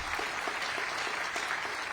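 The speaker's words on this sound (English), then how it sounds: "You ought to give yourselves an applause right now." Teachers in an audience applauding, a dense, steady wash of clapping with no voices over it.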